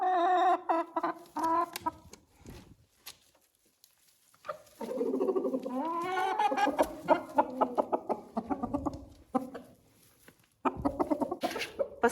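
Ameraucana chickens clucking and calling close by in bursts, with varied pitched squawks and murmurs separated by short quiet gaps, no speech.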